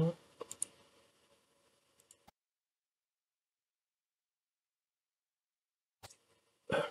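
A few sharp mouse clicks sound close at the start, followed by a long stretch of dead silence, then more clicks and a short burst of speech near the end.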